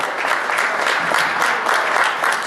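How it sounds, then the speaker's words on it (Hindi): Loud, dense applause from an audience at a community celebration gathering in a civic centre, welcoming a speaker to the stage with steady clapping throughout. "जबरदस्त तालियों के साथ स्वागत कीजिए"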